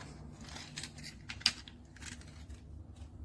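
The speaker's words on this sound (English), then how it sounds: "And then you can close it back up fold it." A magnetic four-in-one selfie stick tripod is folded shut up close, giving a few quiet plastic clicks and snaps, one sharper click near the middle, over faint background hum.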